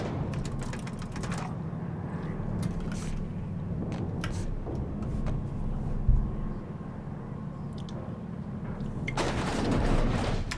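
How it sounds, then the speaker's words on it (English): Elevator ride in The Outer Worlds, a steady low mechanical rumble and hum with scattered clicks and a thump midway, swelling louder toward the end. "I hate having to ride this elevator"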